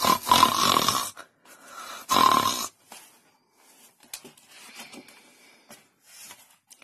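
A voice imitates a piglet yawning loudly and grunting in a children's story: two loud, breathy yawn-like bursts up close, followed by softer, scattered snorting grunts and quiet pauses.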